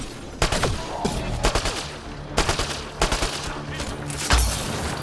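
Sniper rifle fire in Mass Effect: Andromeda: sharp, loud shots crack out at irregular intervals, several in quick succession, each trailing off over a steady game background.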